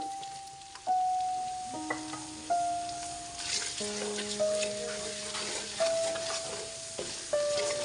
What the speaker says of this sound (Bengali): পাঁচ ফোড়ন দিয়ে আরেকটু বেজে নিচ্ছি